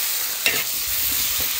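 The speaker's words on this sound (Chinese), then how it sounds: "现在我要下锅" Food goes into hot oil in a wok and fries, giving a steady close hiss and sizzle with a small splash of stirring partway through and no voices.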